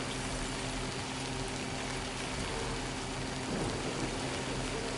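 Steady timefall rain falls in the video game Death Stranding 2, a soft, even patter and hiss with a faint low rumble underneath. It stays continuous and moderately quiet, with no voices.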